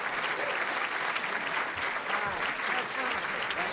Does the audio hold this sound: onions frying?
no